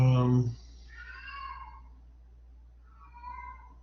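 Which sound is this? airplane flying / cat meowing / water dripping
cat meowing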